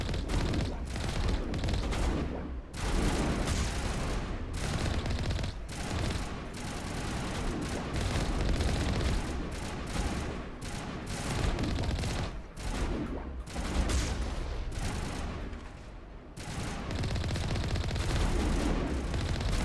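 Sustained gunfire hammering the Mako armored vehicle in Mass Effect, a loud, dense, continuous barrage of rapid shots with brief dips and breaks, close and overpowering with no talk over it.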